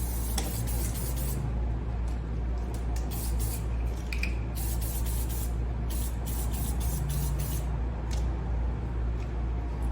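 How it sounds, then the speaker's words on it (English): Clippercide disinfectant misted from a spray bottle over hair brushes and combs, a series of short hissing spray bursts close to the microphone against a quiet background hum. "what I'm going to do is spray it thoroughly and mist it over everything"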